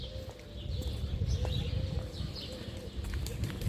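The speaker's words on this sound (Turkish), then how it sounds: "Kuş sesleri çok güzel." Birds call and coo outdoors on an empty early-morning street, with a dove-like cooing and scattered chirps over a steady low rumble of background noise.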